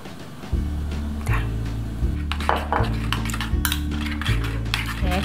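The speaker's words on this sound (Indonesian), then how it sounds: "Kita aduk sampai semuanya merata" A spoon stirs a steamed pork mixture seasoned with sweet soy sauce in a bowl, giving repeated light clinks and scrapes over a steady low kitchen hum, with no talking.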